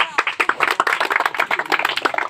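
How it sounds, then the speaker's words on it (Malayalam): An audience at a sports prize ceremony claps in a brisk, uneven burst of many hands that holds steady and close for the whole stretch. "ഒരു ക്ലാപ്പ് കൊടുത്തേ."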